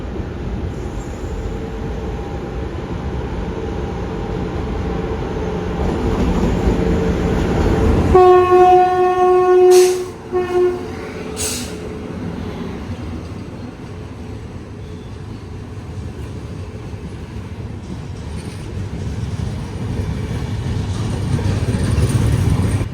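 A Duronto Express runs through Pune station amid steady rail rumble. A loud, sustained horn blast sounds midway, with a couple of sharp clanks after it, and the rolling wagon noise carries on to the end.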